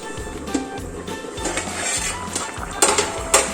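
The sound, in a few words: pot being covered with a lid while chicken curry cooks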